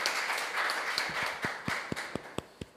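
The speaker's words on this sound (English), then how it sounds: "so let's give them a round of applause." Applause from the audience after a debate match, starting as a soft patter and thinning out into a few scattered, distinct claps that fade toward the end, with no talk.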